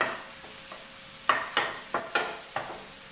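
Chopped tomatoes go into an onion curry frying in a pan in a Goa service apartment kitchen, a steady sizzle broken by several sharp stirring and scraping knocks, with no talking.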